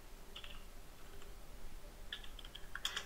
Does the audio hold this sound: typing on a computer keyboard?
yes